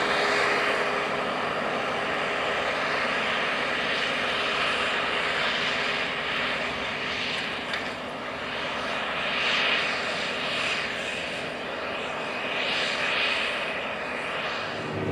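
A John Deere 9620R four-wheel drive tractor working a field, a steady broad engine drone with a constant hum and airy wash that swells slightly at times, heard from a distance with no talk.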